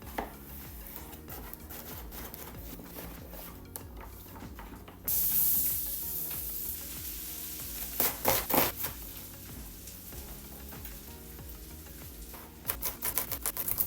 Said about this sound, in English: we have our butter sizzling up